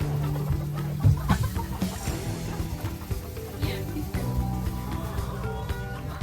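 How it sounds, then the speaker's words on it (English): A flock of about fifty chickens clucks steadily up close on a farm, overlapping calls forming a busy, continuous chatter. "Look at all the chickens."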